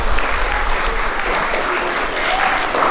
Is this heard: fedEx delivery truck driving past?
no